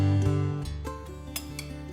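Spoon clinks against a bowl while almond flour and ragi flour are mixed, a few light metallic taps and scrapes fading after a louder opening knock.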